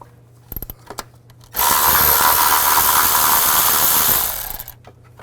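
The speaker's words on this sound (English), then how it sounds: "use a 12mm socket to take this bolt out" A power tool with a 12mm socket removes a bolt from a Nissan Xterra valve timing solenoid area, giving a loud, steady whir of about three seconds between brief clicks and taps.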